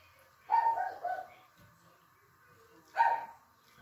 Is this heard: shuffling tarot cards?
no